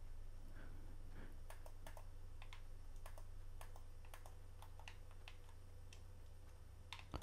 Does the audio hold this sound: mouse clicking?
yes